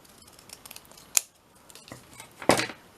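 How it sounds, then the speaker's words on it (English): Scissors snip through paper for a ballet-themed craft project, a few light close cuts followed by two sharper, louder snips, with quiet rustling between. "I'm going to just cut the top bit just a little bit shorter"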